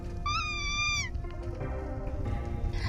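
Cat meowing in the video game Dinocop, one clear, drawn-out meow near the start, heard over a low rumbling game background, followed by softer clutter.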